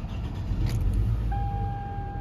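The engine of a 2011 Toyota Camry LE cranks briefly, then catches and settles into a steady idle, close and fairly loud.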